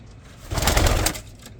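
Racing pigeons kept in a loft outdoors on a warm day coo in a soft, brief burst that swells in the middle and fades, close to the listener with no talking.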